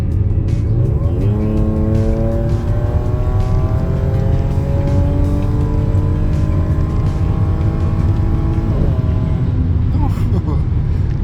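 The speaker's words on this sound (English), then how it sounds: "I hope you guys can hear the supercharger whine in the background." An Audi S4 accelerates through the gears with supercharger whine layered over a loud exhaust, the engine note rising in long sweeps with two upshifts, heard close from the cabin.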